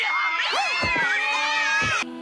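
Several cats meow and yowl over one another in a scene from True Blood, loud and continuous, with overlapping wailing cries that cut off abruptly near the end.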